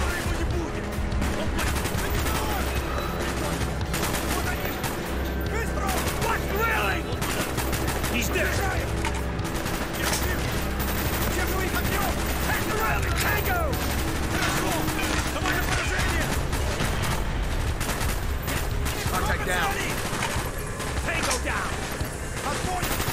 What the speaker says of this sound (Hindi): मेरे को गोलियां पड़ रही हैं